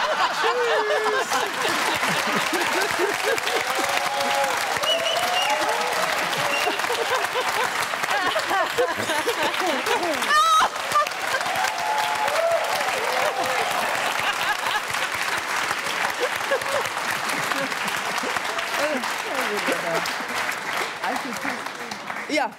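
A studio audience at the German talk show Kölner Treff claps steadily for a long stretch, dense and sustained applause with scattered laughter and voices mixed in.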